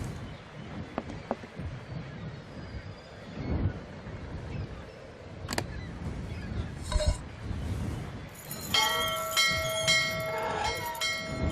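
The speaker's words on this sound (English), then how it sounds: "Don't tell me you didn't hear the bell this time." A bell rings inside the Syberia adventure game, heard as a cluster of bright, sustained metallic tones near the end, over a soft, muffled background with faint knocks.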